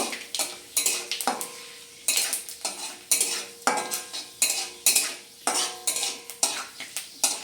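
Repeated metallic scrapes and clinks of a spoon stirring spices in oil in a pan, in quick bursts, with a light sizzle of frying underneath.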